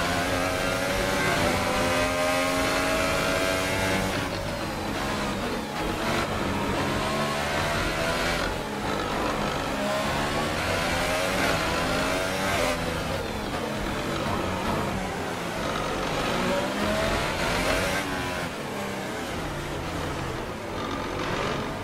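A Formula 1 car engine in the F1 2018 racing game screams loudly and continuously, its revs climbing and dropping through rapid gear changes with sharp downshifts over a long stretch.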